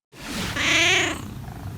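A cat tucked under a blanket purrs close up in one steady, rumbling stretch of about a second and a half, with no other sounds.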